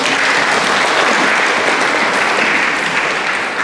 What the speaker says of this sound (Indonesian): Tepuk tangan untuk kedua orang.